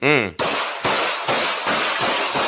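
A short harmonic voice cry, then four sharp broadband bangs at a steady pace, loud and close, like gunshots fired in quick succession.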